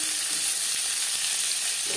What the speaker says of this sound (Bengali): লঙ্কা ভেজে নেওয়ার পর দিয়ে দিলাম 1 চামচ গোটা জিরে, একটা তেজপাতা